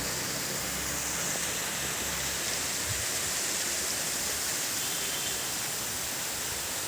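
Steady roaring rush of a mountain waterfall in Pauri Garhwal, a broad constant wash of falling water filling the whole stretch without pause.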